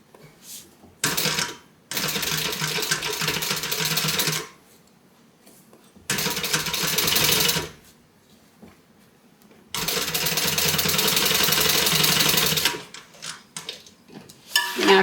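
A sewing machine stitches the seam of a tote bag in three sustained runs of a few seconds each, steady and close, with quiet pauses between the bursts.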